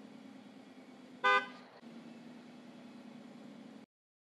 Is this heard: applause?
no